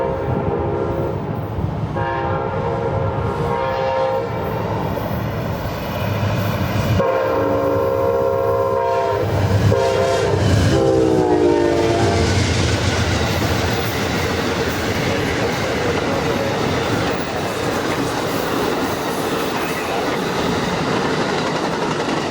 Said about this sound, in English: we catch our first train, Amtrak 98 on its way to New York